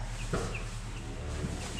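A few soft clucks from chickens in a farm enclosure, brief and scattered over a low steady background hum.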